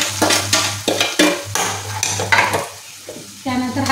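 Ground masala stirred into roasted onion in a hot oil pan for Kolhapuri mutton curry, with close, steady sizzling frying and repeated scraping strokes of a spoon against the pan.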